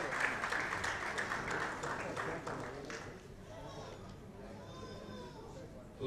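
Audience applause at an Indian stage event, clapping strongest at first and thinning out after about three seconds, leaving murmuring and chatter in the room.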